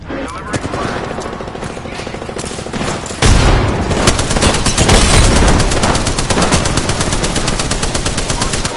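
Rapid automatic gunfire from an Apex Legends firefight, dense bursts of shots that grow louder and heavier partway through, with loud sustained rattling over a busy battle background.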